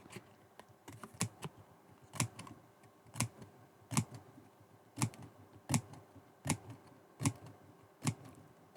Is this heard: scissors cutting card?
yes